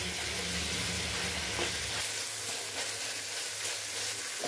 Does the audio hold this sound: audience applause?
no